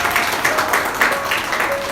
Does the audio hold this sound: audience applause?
yes